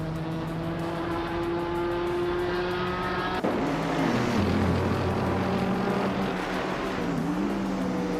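Racing car engines in a video game race, including an older Orica FL9, drone steadily at high pitch, then shift abruptly to a rougher, rising roar as a car closes in and passes.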